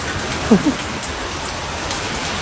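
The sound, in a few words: heavy rain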